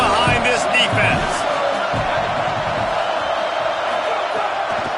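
A football stadium crowd roars on a big third down, a dense, loud wash of cheering and noise sustained throughout, with a few sharper thuds and shouts in the first seconds.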